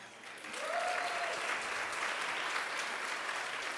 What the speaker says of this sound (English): So I say a round of applause to that.